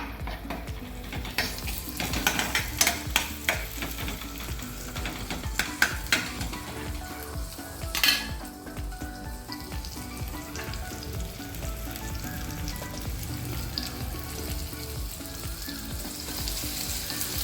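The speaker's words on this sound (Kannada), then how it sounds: "ಸ್ವಲ್ಪ ಹಾಕಿ ಶಾಲೋ ಫ್ರೈ ಮಾಡಬೇಕು" Mushroom, broccoli, carrot and capsicum shallow frying in a little oil in a pan, a steady close sizzle broken by frequent clattering stirs and utensil scrapes, with one sharper metallic clank midway.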